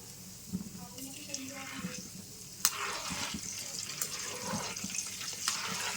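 Gulab jamun frying in oil over a low flame, a steady bubbling sizzle with occasional stirring clinks, close by, and someone speaking over it.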